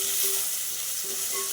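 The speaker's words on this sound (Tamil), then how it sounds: "பூண்டு வெங்காயம்லாம் நல்லா வந்து இந்த பச்சை வாசனை போகிற அளவுக்கு நல்லா வந்து வணக்கி விடணுங்க" Garlic and onion sautéing in a hot pan for a bottle gourd kara kuzhambu, a steady close sizzle and crackle of frying with no talking.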